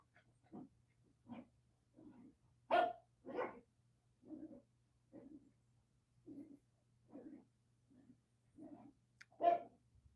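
A dog barks repeatedly while playing with a purple toy bear indoors, about fifteen short, fairly soft barks spaced roughly half a second to a second apart, a few sharper and louder, with no talking.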